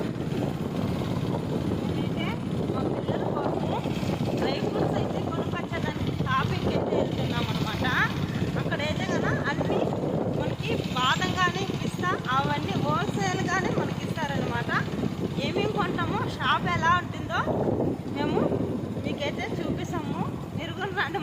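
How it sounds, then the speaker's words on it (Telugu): Steady engine drone and rushing wind from a moving motorbike, with a person talking over the noise throughout. "ఇలా బైక్లో పోతున్నాము చూడండి"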